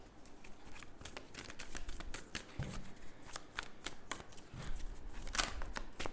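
Tarot cards are shuffled close by in quick papery riffles and soft slaps, repeating in bursts, with no talking.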